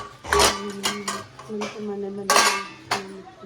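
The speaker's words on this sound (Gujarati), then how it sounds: "વાસણ બાસણ ધોઈ" Dishes and pots being washed, with repeated sharp clangs and clatters of metal utensils knocking together at close range, a voice speaking faintly in between.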